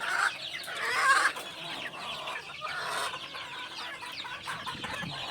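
Chickens and young cockerels cluck steadily on a game farm, a busy overlapping chorus of bird calls, louder near the start and then continuing at moderate level, with no talk over them.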